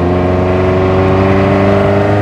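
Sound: 1985 VW Golf GTI Mk2 engine while driving

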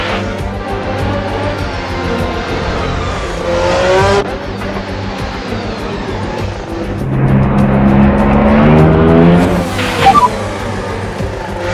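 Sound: F1 car engine and gear shifts, video game Assetto Corsa

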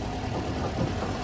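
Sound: 2007 Mexican-import car 1.8 engine idling

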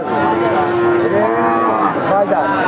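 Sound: cows at a cattle market

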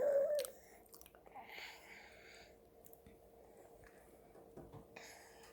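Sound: child chewing and eating a banana

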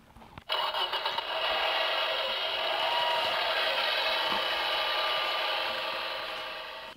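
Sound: red tractor engine sound from a children's sound book

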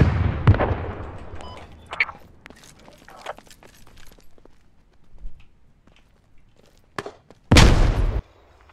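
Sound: mortar fire in video game Squad

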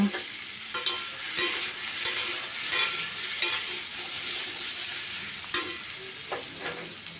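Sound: potatoes and eggplant frying in a pan

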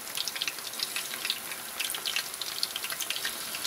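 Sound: frying calamari-style in a pan

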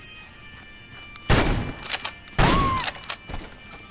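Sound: shotgun firing in video game Medal of Honor: Above & Beyond VR

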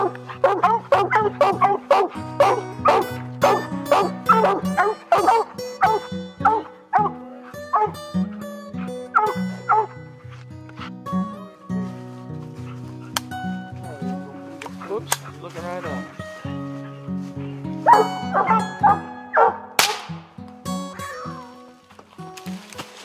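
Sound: hunting dogs barking at treed raccoon

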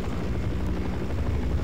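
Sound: helicopter circling in Half-Life Source video game

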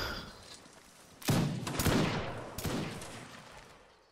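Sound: musket volley from a line battle in video game Napoleonic Wars

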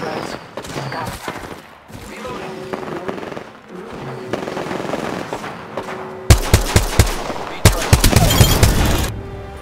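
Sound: gunfire from video game Apex Legends

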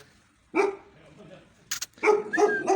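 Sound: dog barking, mother dog protecting her puppies

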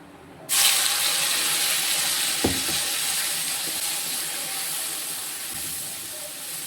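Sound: ground masala paste boiling in pan

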